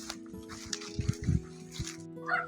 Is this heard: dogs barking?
yes